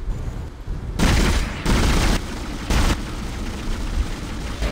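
Weapon fire from a Dead Space game, loud close bursts of shooting in three heavy blasts of under a second each, with a low rumbling background between them.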